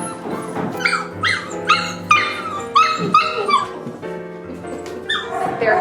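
Puppies at a humane society shelter bark, yip and whimper in a noisy indoor space, several overlapping high-pitched barks in irregular bursts, close and lively.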